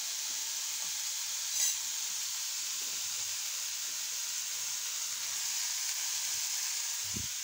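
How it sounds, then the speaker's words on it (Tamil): Food sautés in a cooking pan with a steady, even sizzle and hiss throughout, close and moderately loud, with a faint clink of stirring partway through and no talking. "நல்லா வதக்கணும்."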